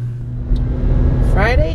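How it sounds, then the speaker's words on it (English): Steady low engine and road rumble inside a moving car in Friday traffic, continuous and fairly loud, with a brief voice rising near the end. "Friday traffic."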